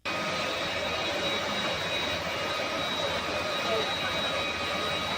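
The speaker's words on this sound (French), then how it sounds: "Ils sont embarqués dans cet avion qui va les emmener à l'aéroport de Mbujimayi" Steady, loud broadband roar of an airplane's jet engines from aboard or beside an aircraft bound for Mbujimayi airport, continuous and unbroken throughout with no pauses.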